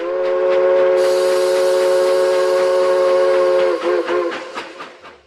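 A Lionel Erie Vision Triplex 2-8-8-8-2 model steam locomotive sounds a loud, sustained steam whistle. Rhythmic chuffing runs beneath it, then the whistle cuts off and the chuffing continues alone, fading.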